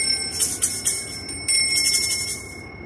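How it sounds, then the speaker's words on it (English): A small hand bell rings several times in quick succession, bright and close, with a few sharp strikes early on and a longer shimmering ring midway before fading out. "And I have a bell."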